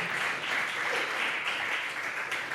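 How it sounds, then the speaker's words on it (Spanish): A church congregation applauds during a Spanish-language sermon, a steady, dense wash of clapping that fills the short stretch on its own without any voices. "Dale el aplauso al Señor"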